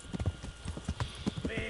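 A horse gallops in the video game Kingdom Come, rapid rhythmic hoofbeats pounding close and loud, with someone talking over them.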